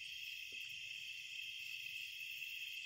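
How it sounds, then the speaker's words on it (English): Tree frogs call at night near a pond in a continuous, even, high trilling chorus that sounds faint and distant, with no voices. "So what is that noise right now? I believe it's tree frogs or something."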